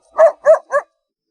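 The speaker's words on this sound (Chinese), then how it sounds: "主人家呢还养有2只小狗狗" One of two small dogs at a mountain village house gives three short, sharp barks in quick succession, loud and close, followed by silence.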